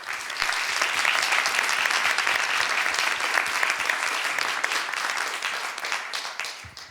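Sustained applause from a festival audience at a documentary distribution panel, dense steady clapping from a full room that holds for several seconds before tapering off at the end.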